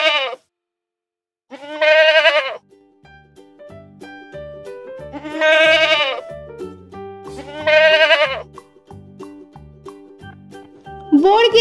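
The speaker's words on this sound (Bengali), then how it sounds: "ছ ছয়ে ছাগল ছানা লাফিয়ে চলে।" A young goat kid bleats in several loud, wavering calls spaced across a dozen seconds, with a soft tinkling, chime-like melody playing underneath between the bleats.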